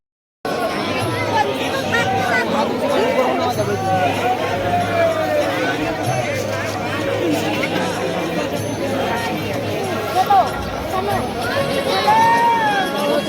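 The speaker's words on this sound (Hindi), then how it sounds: "बहुत ज़्यादा भीड़ है यार" Outside Kedarnath temple a large crowd fills the air with constant dense chatter and overlapping voices, with traffic noise also audible.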